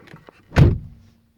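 A single solid car door thump on a Ford C-Max or Focus, close and loud, after a couple of faint clicks, with a short fading resonance.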